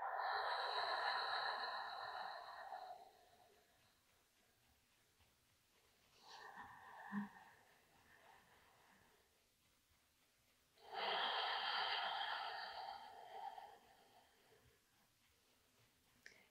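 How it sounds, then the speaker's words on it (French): Slow, deep breaths drawn in and let out during a gentle stiffness and joint exercise, heard close as long airy swells. Two long breaths and a shorter one sit between quieter pauses. "J'inspire dans le bas, le milieu, le haut des poumons. Et j'expire."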